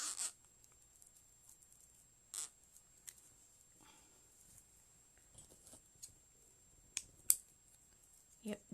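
Dull scissors snip through ribbon in scattered short cuts, some sharper than others, over a faint high background tone in a quiet room.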